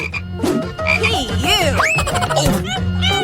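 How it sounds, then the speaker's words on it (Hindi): Loud, busy frog croaking with rapid overlapping calls and chirps, close and continuous, with no talking. "ये तुम्हारा मेंढक है"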